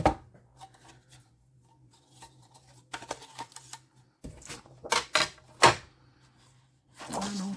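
Cardstock being cut on a paper trimmer for a Christmas shaker card, a few sharp slicing and clicking strokes with quiet handling and a low hum between them, close by, with no talking.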